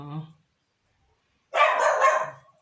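A small dog lets out a short burst of loud, close, yappy barking after a brief quieter sound and a moment of silence.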